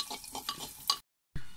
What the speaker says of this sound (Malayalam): അപ്പൊ ഞങ്ങൾ ഇനിയിപ്പോ നല്ല മിക്സ് ചെയ്യാണ്